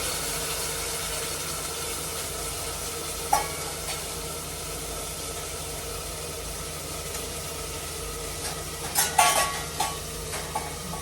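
Tempering crackles in very hot oil in a home kitchen, giving a steady sizzle with a single clatter early on and a short cluster of metallic pan knocks near the end.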